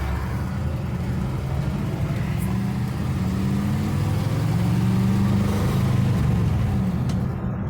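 A 1959 Ford Skyliner accelerating on the road, its engine droning steadily and rising in pitch as it gathers speed, heard from inside the car with constant road noise.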